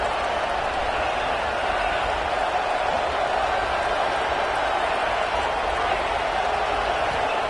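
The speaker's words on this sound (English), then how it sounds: "Listen to the crowd energy here in the early going." Stadium crowd at a college football video game, Florida vs Ole Miss, fills the air as a steady, dense roar of many voices with no breaks, broad and continuous throughout.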